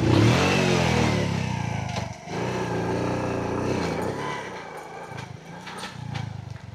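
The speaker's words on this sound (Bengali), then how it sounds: "আবার মোটরসাইকেল বন্ধ হয়ে গেল, যেহেতু ভিজা এই জন্য একটু প্রবলেম হচ্ছে" A motorcycle on a wet road idling and revving loudly close by, the engine dipping out briefly before catching and running again with uneven throttle bursts.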